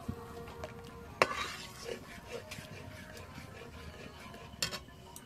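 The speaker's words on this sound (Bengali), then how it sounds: "ভালো করে নেড়ে নেব।" Homemade tomato sauce from a kilo and a half of tomatoes is stirred in a pan, with occasional spoon scrapes and clinks against the pan over a soft, low simmer.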